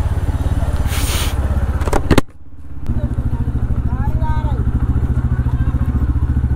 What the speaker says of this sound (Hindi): इधर से कैसे निकलेगी बाइक हमारी।